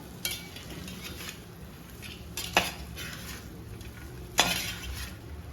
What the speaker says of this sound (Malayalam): ഇത്രയും ചേർത്ത് കഴിഞ്ഞാൽ നമുക്ക് നന്നായിട്ട് അത് ഇളക്കി ഇളക്കി യോജിപ്പിച്ചെടുക്കാം